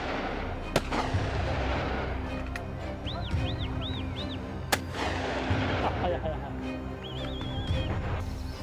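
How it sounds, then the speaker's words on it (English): Gunfire cracks out in a few sharp, separated shots at a wild boar in a forest, amid rumbling background noise and chirping calls, with a voice talking underneath. "One final burst of gunfire, and it collapses in the forest"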